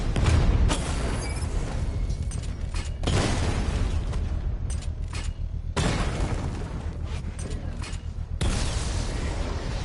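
An attack drone blows up in a Batman game, with heavy booming blasts, crashing debris and mechanical clatter running loud and continuous in repeated bursts, with no talking.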